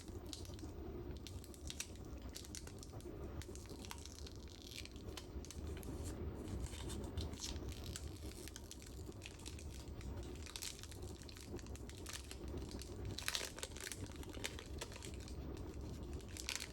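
Plastic film wrap on a red box being handled close up, a steady stream of crinkles, crackles and soft rustles with frequent small sharp snaps, quiet and intimate throughout with no talking.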